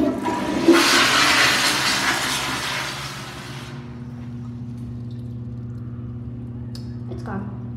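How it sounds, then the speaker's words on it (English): A Cola High Crest toilet flushes toilet paper away: a loud rushing swirl for a few seconds, then it drops to a quieter steady hum of refilling water with a faint gurgle near the end. "Now I'm gonna flush it and see what happens."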